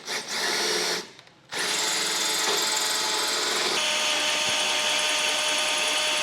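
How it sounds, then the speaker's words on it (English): A power drill with a 1.25-inch hole saw cutting into a 2013 Mini Clubman while a base plate kit is fitted, a loud close whine that briefly stops and then runs steadily. "So we'll get this drilled out."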